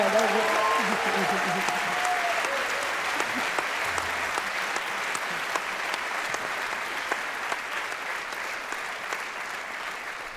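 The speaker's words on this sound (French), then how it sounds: "je propose qu'on vous applaudisse très, très, très fort également" Sustained applause from a conference audience at an entrepreneurs' summit, a dense, even wash of many hands that carries on for several seconds, with brief voices at the start before the clapping fills the room.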